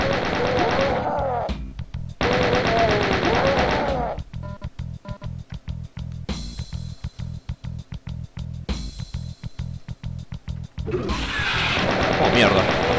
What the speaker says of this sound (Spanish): Y se me siguen disparando